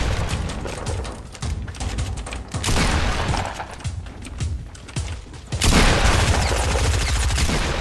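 Rapid bursts of gunfire in the video game Fortnite, dense overlapping shots with booming impacts that swell louder toward the end, played without any talk.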